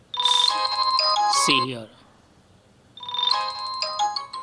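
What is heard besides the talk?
Vivo Y16 phone ringtone playing at maximum volume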